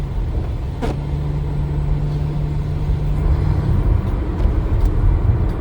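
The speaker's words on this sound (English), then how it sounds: "Big truck." A big truck rolls past on a road at night, a heavy, steady low rumble beneath a vehicle's own engine drone.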